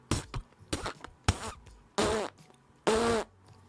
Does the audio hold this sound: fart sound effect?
yes